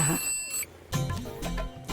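A telephone rings in a tense film scene, a few bursts of ringing separated by short gaps, fairly loud and close, with some background sound mixed in.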